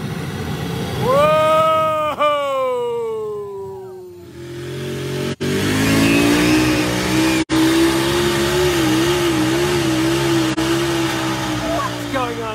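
Loud cement truck engine revving and straining at a tractor pull in Pompey, New York, with a steady droning roar and pitch swells, a rising rev early on, sharp clicks, and crowd voices mixed underneath.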